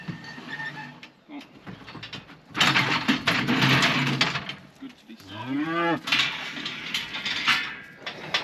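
Yearling heifers on a New Zealand farm moo loudly and repeatedly during weighing, with one long drawn-out call near the end, over clanking livestock-handling gear.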